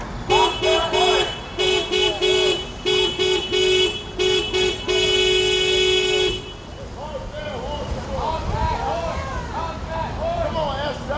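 Car horns blare in repeated short and long honks, loud and close, at a street protest in Seattle, then give way to crowd noise and scattered voices.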